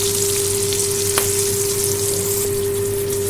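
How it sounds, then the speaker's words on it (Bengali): Nigella seeds and green chilies tempering in hot oil for a hilsa fish head and greens dish, giving a steady, close sizzling hiss that runs evenly throughout with a faint low hum beneath. "ফোড়নটা যখন সুন্দর করে ভাজা হয়ে যাবে"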